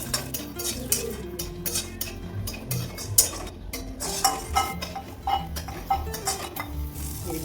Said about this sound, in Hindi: इसको हम लो फ्लेम में फ्राई करेंगे।